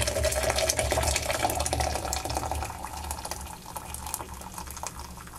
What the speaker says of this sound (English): So we're going to pour boiled water into the can.